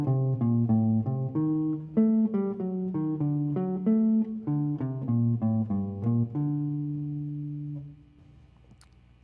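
Solo clean jazz guitar runs down a mode and back up a triad in a brisk string of picked notes. It ends on a long ringing note that decays into near silence, with a small click at the very end.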